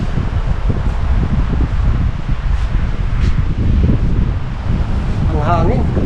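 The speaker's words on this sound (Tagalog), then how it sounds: "Ang hangin." Strong wind roars and buffets across the microphone atop a four-story sky tower overlooking the Sierra Madre, a steady rushing gust with faint rustling beneath.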